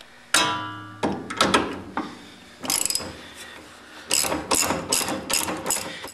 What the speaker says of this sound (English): we're going to use a couple of 11/16 inch socket wrenches.